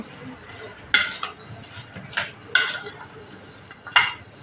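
Spoon clinking against a steel bowl while jaggery is mixed into raw mango pickle, several sharp scrapes and taps spaced irregularly, close and moderately loud with no talk.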